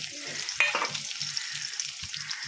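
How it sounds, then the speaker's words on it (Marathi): Chopped onion frying in hot oil after tempering, a steady soft sizzle with a sharp utensil scrape or clink near the start and faint low intermittent tones underneath. "तर आपण कांदा छान असा परतून घेणार आहोत"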